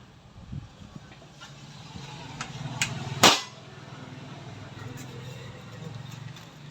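JBC PCP air rifle firing a single sharp, loud shot that cracks out once against low background noise and brief murmured talk.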